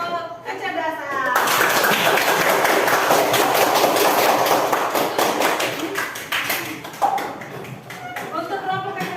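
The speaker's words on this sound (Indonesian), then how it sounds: "Oke, tepuk tangan untuk kelompok kecerdasan" A classroom group bursts into sustained applause, many hands clapping together loudly for several seconds before thinning into scattered claps; children's voices and a teacher talking are heard at the start and end.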